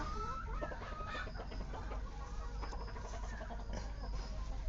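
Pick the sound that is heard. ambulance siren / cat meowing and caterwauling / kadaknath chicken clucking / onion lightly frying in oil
kadaknath chicken clucking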